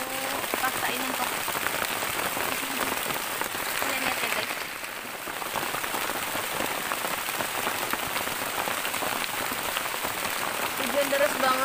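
Heavy, sudden rain pours down at a bushcraft campsite, a dense, unbroken hiss of drops drumming on surfaces close by, steady and loud throughout with no talking.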